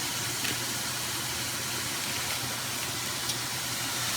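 Sliced pork cooking in a pan for breakfast, giving a steady, even sizzling hiss that stays constant throughout, close and moderately loud with no pauses.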